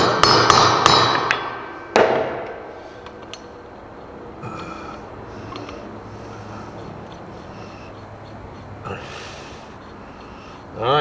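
Sharp metallic hammer taps knocking a key out of a Hustler mower spindle during a bearing change, a quick burst of close, loud strikes followed by a lone heavy blow, then quieter shop sounds.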